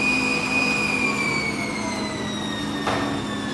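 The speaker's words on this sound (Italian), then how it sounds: "motore spinto praticamente al massimo." An electric microvehicle motor pushed to maximum gives a sustained high whine. Several tonal lines slowly slide down in pitch over a low rumble, heard close and alone.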